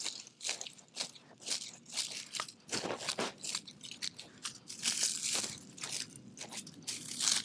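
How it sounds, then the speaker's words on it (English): Garden shears cut back spotted deadnettle (Lamium maculatum) groundcover in a shade garden, a rapid series of crisp snipping and crunching cuts through leafy stems, close and continuous for several seconds without talking. "I'll just take my shears, I'll cut them back all the way."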